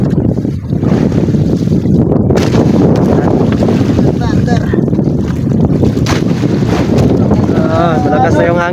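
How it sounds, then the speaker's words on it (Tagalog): Strong wind roars steadily at sea, loud and close, buffeting the microphone over a fishing boat, with faint voices now and then. "Malakas na yung hangin."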